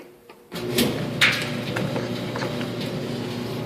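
A household clothes dryer hums steadily in a home's laundry area during an inspection, starting up abruptly with a click and a soft clunk, then running as a constant low drone.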